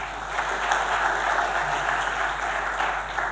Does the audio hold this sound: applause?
yes